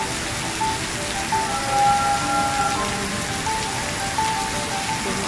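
Steady heavy rain pours down at the National Stadium in Singapore, a dense continuous hiss with faint tonal hum underneath and no speech.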